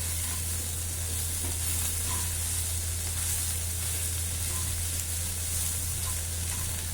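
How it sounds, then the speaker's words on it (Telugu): Cluster beans sizzle and fry steadily in a pan with turmeric added, a continuous close hiss with faint stirring and no talk. "ఈ విధంగా వేయించుకోండి"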